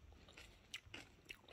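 Faint, close crunching bites of cabbage kimchi made with pollock, a few crisp chews spaced irregularly over quiet background.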